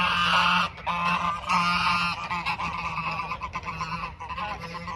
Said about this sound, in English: There should be 4 male geese coming at me right now.